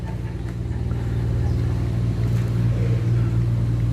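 A steady, loud low rumble of heavy trailer trucks passing nearby, with a continuous engine drone and no talk.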